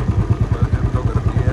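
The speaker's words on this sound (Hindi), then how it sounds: "अभी बाइक पे जा रहे हैं" Motorcycle riding through the crowded streets of Old Delhi, its engine making a steady pulsing low chug with a regular rhythm, close and fairly loud throughout the short stretch.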